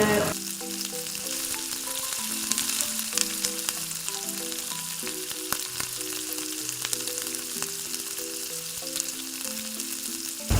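Cinnamon and fennel seeds fry in hot oil, producing a loud, steady, crackling sizzle that runs throughout under soft background music, with no one talking.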